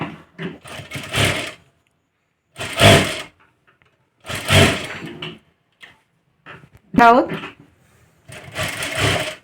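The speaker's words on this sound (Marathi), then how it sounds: "इथून टीप मारायला सुरुवात करा" A sewing machine stitches along a folded strip of a katori blouse in several loud, close bursts separated by pauses, while a person talks in between and over the runs.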